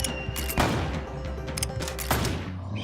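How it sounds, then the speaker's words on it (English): Game gunfire in the Western title Westerado, a couple of sharp shots standing out over a busy background of game sound with no talking. "I actually ended up shooting off Rancher Bob's hat with that"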